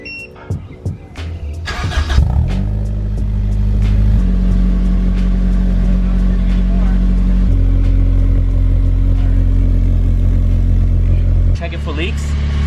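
An Acura RSX fitted with an Invidia Q300 exhaust cranks and fires up, catching with a rising roar, then settles into a loud, steady idle with a throaty drone, dropping away near the end; people talk nearby throughout.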